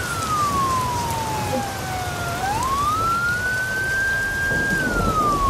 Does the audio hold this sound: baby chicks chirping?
no